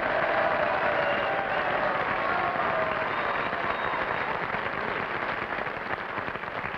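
A 1950s live television studio audience fills the room with steady, dense cheering and applause that holds at an even level throughout, a broad roar with no single voice standing out.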